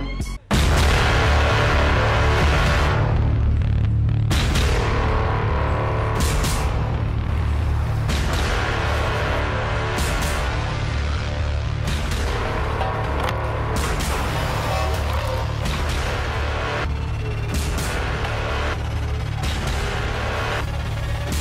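A 26,500-pound road roller rumbles heavily over a fidget spinner, a loud continuous engine drone broken by repeated sharp cracks and bangs throughout.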